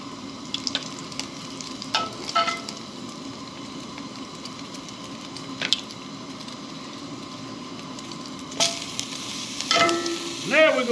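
Bacon sizzles steadily on a camp stove, a continuous close hiss and crackle with occasional clinks and scrapes of a utensil, and a louder clatter near the end.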